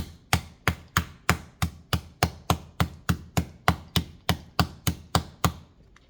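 Cubed steak being pounded flat, heard as about sixteen sharp, evenly spaced thuds in a fast steady rhythm, close and loud, with no talking.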